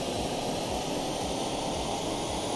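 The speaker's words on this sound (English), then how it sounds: "those sound like they're revving up really high" Engines in the video game Stormworks rev very high, making a dense, constant whine and roar with a steady pulsing low throb underneath and no talking.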